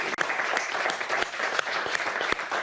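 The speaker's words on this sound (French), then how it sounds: "Je pense qu'on peut vous applaudir." A studio audience on a private equity talk show set gives steady applause, a dense wash of clapping with a few sharper claps standing out, and no voices over it.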